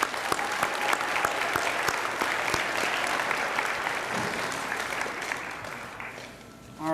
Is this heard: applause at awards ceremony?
yes